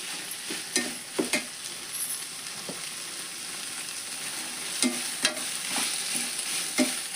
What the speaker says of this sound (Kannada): ಈಗ ಎಣ್ಣೆ ಒಳಗೆ ಫ್ರೈ ಆಗಲಿ